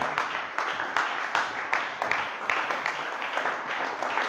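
A worship congregation claps in praise of God's holy name, rhythmic hand claps landing roughly twice per second, loud and steady throughout, with a faint murmur of voices in the mix.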